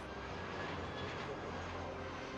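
A military aircraft passes low and slow at the Paris Air Show 2023 flying display, its steady engine roar filling the air continuously at a distance.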